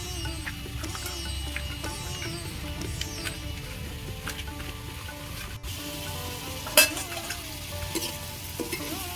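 Steady crackling sizzle of potatoes frying in hot oil, close and continuous, with an occasional light clink of a utensil.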